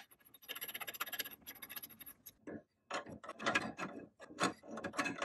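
A nut threaded by hand onto the steering drag link of a 1941–71 Jeep during a repair-kit install, giving small metallic ratcheting clicks in quick bursts, close and quiet, with a brief pause midway.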